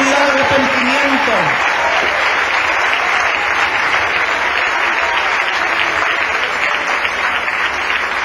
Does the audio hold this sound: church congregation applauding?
yes